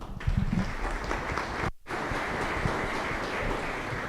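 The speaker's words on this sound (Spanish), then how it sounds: "Un aplauso, Sebastián." Conference audience applauding after a talk on the Angular framework, steady crowd clapping with a brief cut midway.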